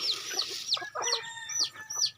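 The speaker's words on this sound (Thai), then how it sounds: "ได้ยินเสียงขันไหมครับ" A Thai decoy rooster crows close by amid a flurry of repeated chicken clucks, all fairly quiet and overlapping.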